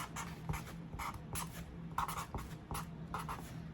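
Handwriting strokes scratch out in short, uneven bursts with brief pauses between words, close and fairly quiet, as someone writes out a daily exercise step.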